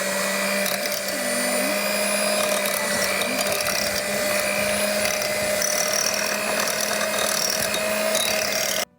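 An electric mixer whirs steadily through almond flour banana bread batter, a loud continuous motor drone with a slightly varying pitch that cuts off abruptly at the end.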